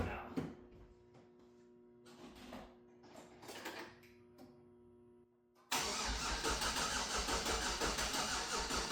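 A turbocharged Sierra pickup with an LS engine cranks with a battery charger attached: several uneven, stuttering crank bursts, then the engine catches and runs loud and steady up close.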